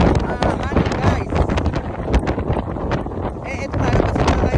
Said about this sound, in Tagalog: Halos tangayin tayo ng hangin